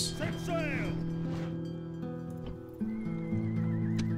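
A horse neighs loudly near the start, followed by clip-clopping hooves and further horse calls, with in-game tones underneath, from the Rome: Total War Remastered strategy game.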